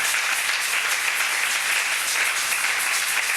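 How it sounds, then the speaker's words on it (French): Church congregation applauding together, a steady dense wash of clapping that fills the space without pause, with no voices over it. "Non, ta façon d'acclamer ne me plaît pas."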